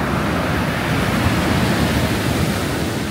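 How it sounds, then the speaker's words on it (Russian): Stormy sea waves crashing at Batumi during a winter storm, a loud continuous roar of surf with wind buffeting close by, no voices. "Под нами бушует море. И посмотрите, какие волны."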